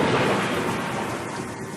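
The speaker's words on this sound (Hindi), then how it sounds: "बाहर होती बरसात में अचानक गरजती हुई बिजली की आवाज" Thunder rumbling during rain at night, a continuous dense roar filling the whole short stretch at steady loudness, with no separate sharp crack standing out.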